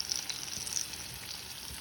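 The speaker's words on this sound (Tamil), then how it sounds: "வடை பாருங்கள் வெந்துட்டுருக்கு." Urad dal vadas fry in oil over low heat, making a soft, continuous bubbling sizzle with small scattered pops, fairly quiet and with no talking.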